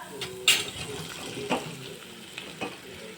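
Muthiya dumplings made with bottle gourd are stirred into a sesame seed tempering in a pan, a faint sizzle with a few soft scraping spoon strokes at intervals across a short stretch.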